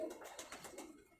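A pigeon gives a short, soft rolling coo of several quick pulses, close but quiet.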